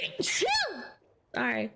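A single sharp human sneeze bursts out close up, followed after a short pause by a person speaking briefly.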